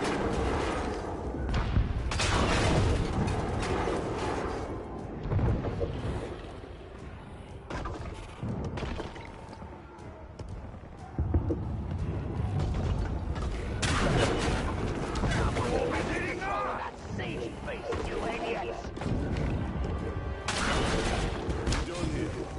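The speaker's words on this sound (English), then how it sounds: "Mobile Ballista!" Mobile ballista firing at a siege beast in the Shadow of War video game, repeated heavy booming shots and thuds amid loud battle noise, with a voice talking over parts of it.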